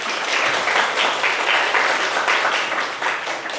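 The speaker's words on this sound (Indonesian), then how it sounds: "Tepuk tangan dulu dong." A crowd at a university public lecture applauds steadily, a dense wash of clapping hands lasting several seconds at moderate loudness.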